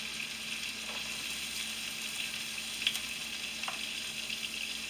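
Onions and green peppers fry in butter for a homemade steak and cheese, giving a steady, dense sizzle close up with faint clinks from stirring.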